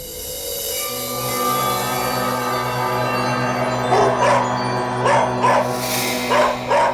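Dog barking indoors in a Tamil TV drama scene, several short loud bursts in the second half over a steady musical drone, with no talk.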